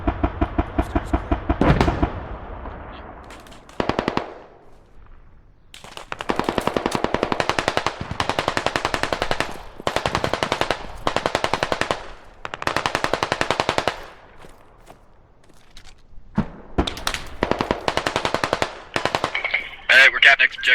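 Machine gun fire in a Squad-style combat video game on the Narva map, long loud automatic bursts separated by short pauses, close and dominant, with a few single shots between bursts.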